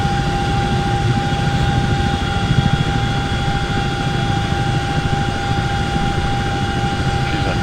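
A CH-47 helicopter flying in the X-Plane 11 flight simulator gives a loud, steady engine drone with a rotor throb and constant high whine, unbroken throughout and with no voices.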